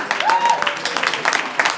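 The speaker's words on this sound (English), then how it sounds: "Give yourselves a round of applause." A short burst of audience clapping closes an evening book event on African narratives, brief and fairly close, with a voice talking over it.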